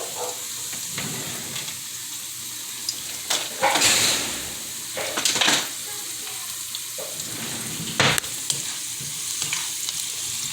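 Diced marinated chicken breast sizzles in a pan with a steady fry hiss, broken by a few louder bursts of stirring and scraping; no talking.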